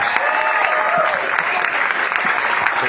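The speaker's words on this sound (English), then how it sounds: "Let's give a nice round of applause for Derek" Audience applause welcoming a presenter named Derek Rose on an activation tour, a steady crowd of hands clapping with scattered whoops and voices rising over it, loud and continuous.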